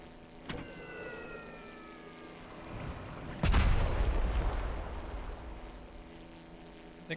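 A bomb detonates in an underwater wreck-diving video game, a sudden loud boom with a rumbling tail that fades over several seconds, preceded by a brief thump and a descending tonal whine.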